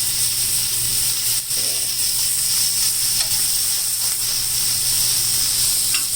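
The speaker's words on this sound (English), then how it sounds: "this flank steak cooks really fast" Flank steak for carne asada sizzling in a hot pan, a loud, even frying hiss that runs unbroken from start to finish, with no talk.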